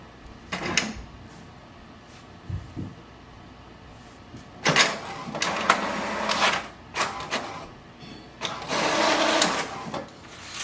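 An HP DeskJet 2942 inkjet printer whirs and clatters in mechanical bursts, pausing between passes as the page feeds through, heard up close in a quiet room.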